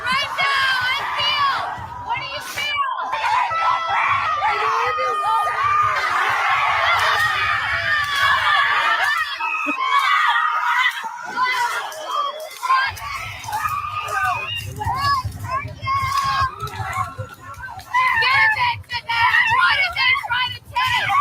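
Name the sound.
women screaming in the woods during a paid rage ritual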